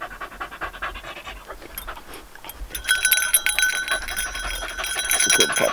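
Rapid, rhythmic dog panting close by, growing louder and busier partway through, with a faint jingling like a tag or bell.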